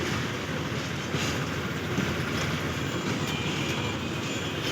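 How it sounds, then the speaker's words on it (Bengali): A train rolls through a level crossing in Sreemangal while road traffic waits, giving a steady broadband rumble and rush that holds at a constant loudness for the whole stretch, with no voices. "এখন ট্রেন আসছে"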